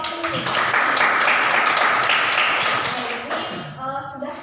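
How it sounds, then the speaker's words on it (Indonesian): Classroom applause for a student, a burst of clapping from many hands that holds steady for about three seconds and then tapers into scattered claps. "Boleh tepuk tangan dulu untuk Wahyu"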